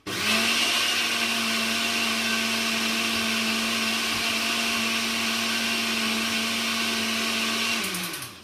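A blender whizzing coconut milk for satay sauce, one continuous loud steady whir that starts abruptly and holds an even pitch for about eight seconds before cutting off.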